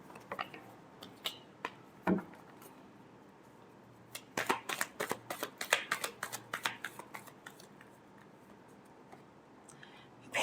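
Tarot cards being shuffled by hand in a quiet room, giving a soft riffle, a series of sharp flicks and snaps in a quick burst, then fading to near silence.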